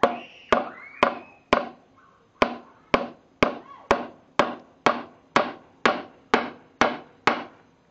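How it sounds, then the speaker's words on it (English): A hammer drives a nail into wood while building a table, stand and shelf in a garage: about sixteen sharp, ringing blows in a steady, even rhythm, close and loud. "But I got a nail. I got a hammer."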